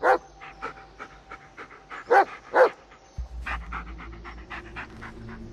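A dog in the Blair Witch video game pants in quick, close, breathy bursts, with a few louder huffs, followed by a low rumbling game ambience and no talk.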